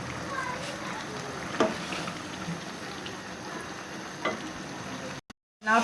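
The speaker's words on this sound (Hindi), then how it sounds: "ये अब हम इसको अच्छे तरीके से भूनते हैं।" Cauliflower stems frying in a pan, a soft continuous sizzle with a couple of brief clatters of stirring, fairly quiet throughout before a sudden dropout and a short burst at the end.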